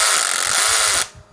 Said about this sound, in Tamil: Torque drill.